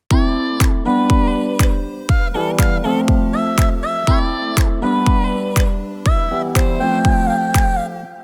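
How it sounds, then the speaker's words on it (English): A chopped vocal sample played through a drum machine plugin sounds in short, choppy stabs over a steady drum-machine beat, each slice cut off sharply in a bouncy rhythm. "get that chopped up vocal sample effect that you hear in a lot of"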